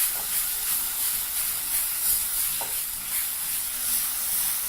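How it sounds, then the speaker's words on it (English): Pork mignonettes sizzle steadily in an oiled pan while being tossed and stirred, a constant bright frying hiss with faint scraping underneath. "Just toss those in your pan real quick."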